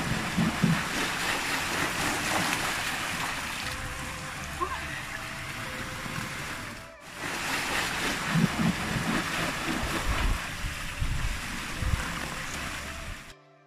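Rain falls steadily at an outdoor hotel pool in Kingston, Jamaica, a continuous hiss that dips for a moment before resuming.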